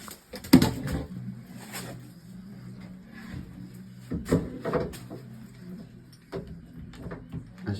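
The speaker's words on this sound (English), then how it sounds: "just going to make a little video of Emil fitting door handles, a door knob, with a little jig he made up." A kitchen door knob being fitted with a homemade jig gives off scattered knocks, clicks and clunks of wood and hardware, a couple of sharper close taps standing out over a quiet room, with no talking.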